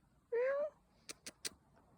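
A single clear cat meow, fairly close, outdoors during a morning nature walk, followed by a few soft short taps or rustles in an otherwise quiet setting.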